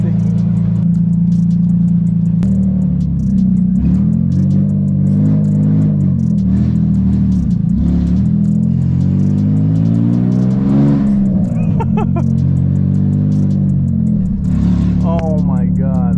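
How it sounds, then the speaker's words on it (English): Nissan 350Z engine with only a header fitted, revving up and down in loud, deep sweeps close by, sounding almost V8-like, with voices talking briefly over it near the end. "That's how Z sounds, guys, with just the header."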